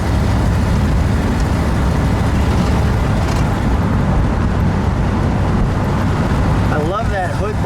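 A 1957 Ford Thunderbird on the move, heard as a steady, loud engine and road rumble from inside the car, with a brief burst of voice-like sound near the end.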